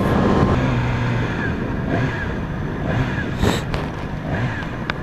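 A 2016 Yamaha R6 sport motorcycle engine with stock exhaust runs loudly and steadily close by, with slight rises and falls in revs throughout.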